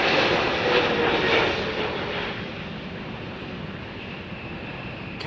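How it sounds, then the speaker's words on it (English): A Qatar Airways Boeing 777 airliner arriving at Heathrow on runway 09L roars loudly at first, its broadband jet rumble easing into a steadier, fading whine as it passes. "Qatar 777."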